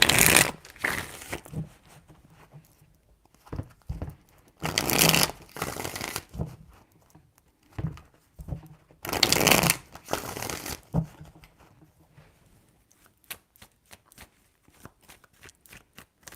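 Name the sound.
shuffling tarot cards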